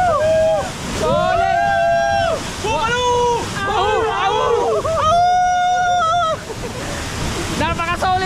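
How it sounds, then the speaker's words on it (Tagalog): Waterfall in Montalban, a steady broadband rush of falling water heard close, partly mixed with wind noise on the microphone and shifting tonal sounds over it. "hindi ko expected na may ganito kagandang falls na madadaanan natin"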